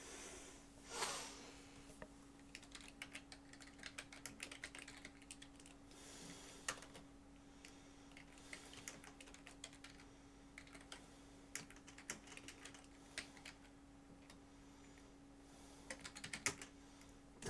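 Computer keyboard typing as notes are taken in Tex Murphy: Mean Streets, a long run of quick, irregular clicking keystrokes close up over a faint steady hum, with occasional sniffs and no talk.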